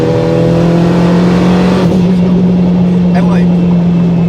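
A turbocharged Acura RSX with straight cut gears accelerates hard, its loud engine note climbing alongside a sustained high gear whine, then easing off as the revs drop near the end.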